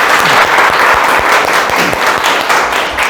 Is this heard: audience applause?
yes